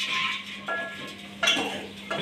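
Fried koftas dropped into masala in a pot, giving a few soft clinks and knocks of utensil against metal at uneven intervals, close by with no talk.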